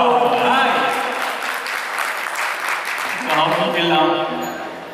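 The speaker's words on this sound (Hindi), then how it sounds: "लेडीज एंड जेंटलमैन मैं चाहूंगा कि जोरदार तालियों के साथ प्लीज वेलकम" Audience applause welcomes a group of performers onto the stage at an annual function, a steady mass of clapping that swells and fades over a few seconds, heavily mixed with voices and cheering.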